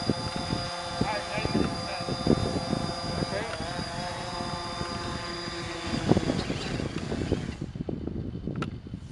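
A small F5U quadcopter drone lands on a pad nearby, its buzzing propeller whine shifting in pitch as it settles, with people talking over it before the motors cut out.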